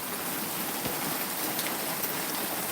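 Steady rain falling on and around a work truck, a dense, even hiss of drops with a few slightly louder patters, continuous and close, with no voices.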